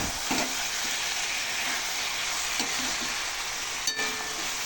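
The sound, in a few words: mutton sizzling while being fried in oil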